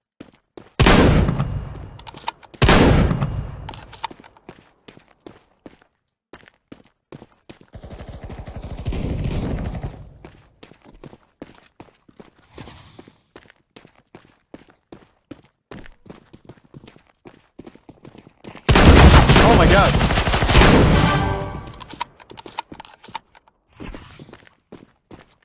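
Shotgun blasts fire in Counter-Strike: Global Offensive deathmatch. A few loud, sharp reports come early, another burst follows near the end, and quieter game clatter and footsteps fill the stretches in between.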